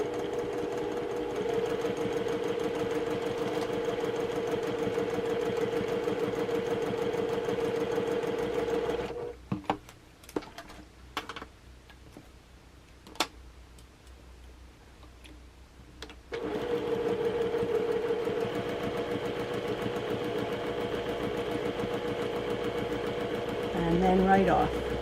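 A sewing machine stitches a quilt block in long steady runs, a close, loud motor hum with rhythmic needle pulses, pausing midway for several seconds of clicks and fabric handling before resuming.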